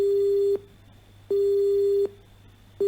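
Repeating phone ringback tone during an unanswered call, a steady electronic beep about three-quarters of a second long followed by a pause of similar length, heard three times in a row with no talking.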